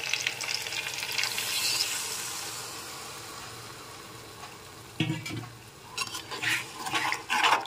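Chili chicken frying in a pan, a steady sizzle that fades before a run of loud spatula scrapes and clinks as the pieces are stirred, close and without talking.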